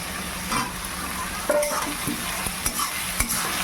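Chopped onions sizzle and fry in a pan for mutton curry, a steady close hiss broken by several sharp scrapes and taps of a spoon stirring against the pan.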